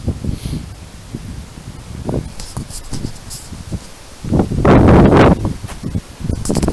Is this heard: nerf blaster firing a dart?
no